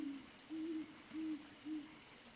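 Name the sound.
owl hooting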